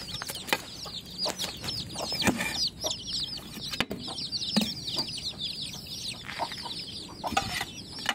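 Hens cluck steadily while chicks peep in a constant high, chirping chorus, with brief rustles and wing flaps close by and no voices.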